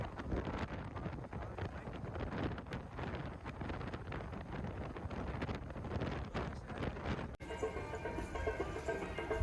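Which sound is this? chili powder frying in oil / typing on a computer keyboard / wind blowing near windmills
wind blowing near windmills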